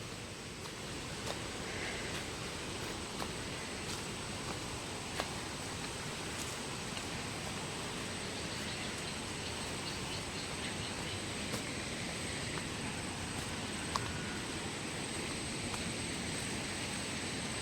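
The Cileungsi river flows with a steady, soft broadband rush of water, heard from nearby at low volume and unbroken throughout, with no talking.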